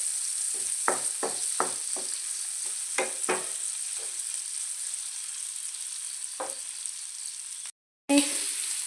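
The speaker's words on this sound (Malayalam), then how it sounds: "നമുക്കിനി തിരിച്ചിട്ട് കൊടുക്കാം. ഇളക്കി ഇട്ട് കൊടുക്കാം." A prawn roast fries in a pan with a steady soft sizzle, broken by a few scraping stirs of a spoon against the pan, and a brief gap near the end.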